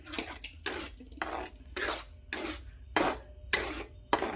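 A spoon scrapes and stirs peas through thick paneer masala gravy in a pot, in a series of repeated rasping strokes at a steady rhythm, close and fairly quiet, with no talking.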